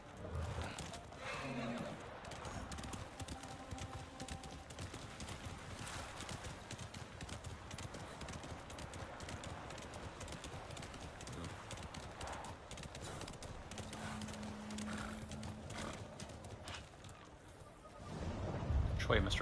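In Ghost of Tsushima, horse hooves clip-clop in a fast continuous rhythm under game ambience, with a neigh or two and a louder surge of sound near the end.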